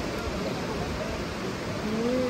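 Sea waves at a beach wash in as a steady, broad rushing noise that fills the whole stretch, with faint voices in the background.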